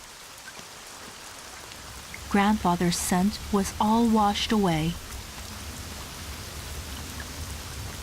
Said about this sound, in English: A few drops quickly turned into sheets of rain.